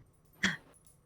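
A dog in a nearby apartment gives a single short, muffled yelp or scream, faint and distant, standing alone against a quiet room.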